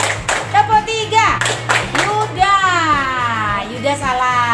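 A school class clapping a counted rhythm in short groups of claps, heard close and loud while a teacher's voice talks over and between the bursts.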